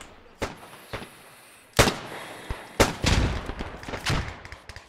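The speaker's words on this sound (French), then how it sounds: "Bien joué la grenade là" Grenade blasts and gunfire ring out in the video game Beyond The Wire, sharp loud explosive bursts spaced a second or so apart, one with a rumbling tail, with no speech over them.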